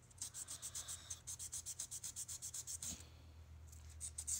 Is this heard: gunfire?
no